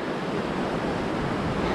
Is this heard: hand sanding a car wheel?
no